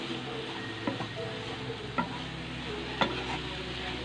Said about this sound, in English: So just give it a good stir and let's leave it.